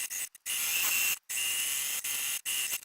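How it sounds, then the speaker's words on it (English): A sewing machine stitches across the bottom of the lining fabric for a hangable laundry bag, running in several steady, close bursts of rapid mechanical whirring separated by brief stops. "I am gonna stitch off across the bottom section of the"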